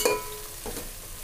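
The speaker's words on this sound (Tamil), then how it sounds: "நம்ம கட் பண்ணி வச்சுருக்க புதினா கொத்தமல்லியை இதில் சேர்த்துக்கலாம். இது கொஞ்சம் நல்லா வதங்கி வரட்டும்" Chopped mint and coriander sauté in a pan for chicken biryani, a brief soft sizzle with a clink at the start and a couple of stirring scrapes.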